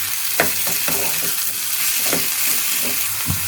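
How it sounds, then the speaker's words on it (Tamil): Onions and curry leaves fry for a chutney in a pan, giving a loud continuous sizzle punctuated by several sharp spatula scrapes and stirs at an uneven rhythm, close by and with no talking. "அந்த அளவுக்கு நல்லா அதை வதக்கி விடுங்க"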